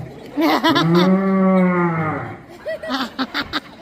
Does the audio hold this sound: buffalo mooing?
yes